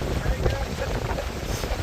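Strong gusts batter an outdoor microphone at an off-road rock-crawling event for an FJ Cruiser, a constant loud rumbling buffet with low thumps and roaring hiss throughout.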